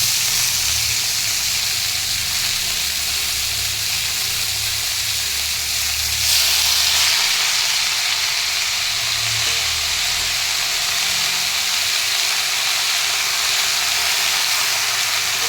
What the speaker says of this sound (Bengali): এখন শাক দিয়ে দিচ্ছি, শাকটা দিয়ে দিচ্ছি।